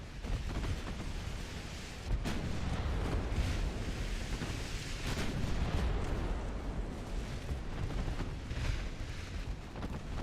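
Naval battle explosions in a video game as a battleship goes down, a continuous dense roar of booming blasts and rumbling fire with sharper detonations near the two-second mark, loud and sustained with no talking.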